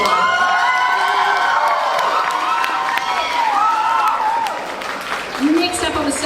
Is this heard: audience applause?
yes